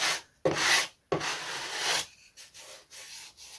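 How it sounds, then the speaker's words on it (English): Knifing putty on a vintage Lunak aerobatic model glider is sanded down in two loud, close rasping strokes, followed by lighter, choppier scratching passes. "It's sanding very nicely actually, so I'm glad I used it."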